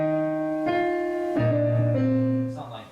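Piano plays a simplified piece with one octave in each hand, three sustained chords struck in sequence and ringing alone.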